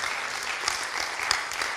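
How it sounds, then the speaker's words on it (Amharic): A church congregation claps steadily at a charismatic worship service, a dense, even wash of applause from many hands with no voice rising above it. "ለቃሉ አጨብጭቡ"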